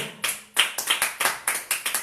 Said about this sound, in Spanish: Dale un aplauso al Señor, porque mi Dios es bueno.